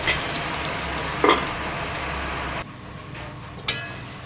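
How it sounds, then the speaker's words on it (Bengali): Onions fry in a pan for chicken kosha, giving a continuous crackling sizzle that suddenly drops quieter partway through, with a couple of faint clinks of stirring. "পেঁয়াজটা আমার একটু লাল লাল ভাজা হোক"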